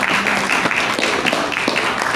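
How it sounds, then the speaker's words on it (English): Audience applause at an aviation event's career talk, a dense steady patter of many hands clapping close and loud for the full stretch, with no speech over it. "Yes, you can clap for them"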